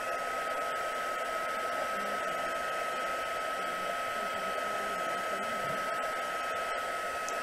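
A heat gun blows steadily for heat embossing, a constant close whooshing hum with a fixed whine, unbroken from start to finish and free of talk.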